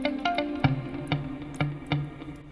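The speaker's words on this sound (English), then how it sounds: "there's this particular muted guitar they have and I really love" Short, plucked muted guitar notes from a software instrument in FL Studio, in a slow, halting pattern, each one damped and percussive with a warm low body, playing alone.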